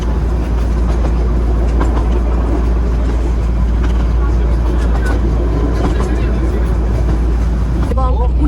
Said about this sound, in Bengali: সকাল 11টা বাজে আমাদের টয় ট্রেনের জার্নিটা শুরু হলো